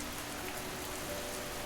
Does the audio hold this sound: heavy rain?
yes